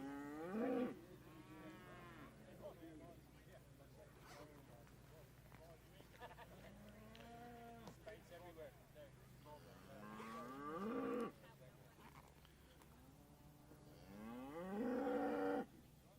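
Hereford heifers low repeatedly at a national cattle show. Several distinct, drawn-out moos rise over a quiet hall hum, with faint voices in the background.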